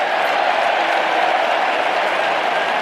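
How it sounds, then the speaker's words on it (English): A large crowd at an AFL match between Fremantle and Port Adelaide roars in a dense, continuous wash of cheering, loud and unbroken. "A big cheer"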